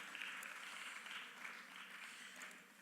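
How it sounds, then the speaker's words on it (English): A seminar audience applauds the speakers, a fairly faint, steady wash of clapping that holds for a few seconds before easing off slightly. "A big round of applause to all the speakers"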